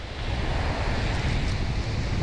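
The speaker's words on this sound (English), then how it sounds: "It's a little bit more wind today than yesterday." Wind by the sea during sea trout fishing, a steady loud rush of gusts and surf washing close to the microphone, unbroken and without speech.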